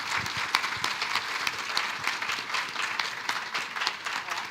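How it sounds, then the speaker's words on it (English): Audience applause for a panel of speakers at an evening community dialogue event, dense steady clapping from many hands sustained throughout at moderate level with no talking. "Let's give them a round of applause."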